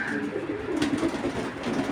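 Male Giribaz pigeon in full heat cooing close by, soft low throaty coos repeating in short pulses across a couple of seconds, fairly quiet with faint background noise.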